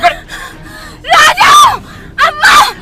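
A woman's loud, anguished screams in two strong bursts, preceded by softer whimpering cries, close and intense.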